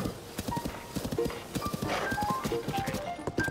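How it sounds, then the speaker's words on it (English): A horse in the Zelda: Tears of the Kingdom video game trots with a rhythmic clip-clop of hooves, close and clear, and a short whinny rises partway through over a light game backdrop. "Stay away, horse."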